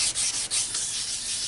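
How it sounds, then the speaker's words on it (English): Sandpaper wet-sands a Hyundai Tiburon headlight lens in circular motions, a close, steady hissing rub with a few brief strokes and dips, continuous and alone without talk. "Spray your sandpaper and just start sanding. Just start wet sanding is what you call it."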